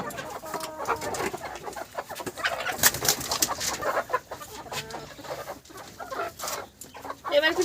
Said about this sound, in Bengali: আর আমরা ওখান থেকেই মুরগি ধরবো এখন।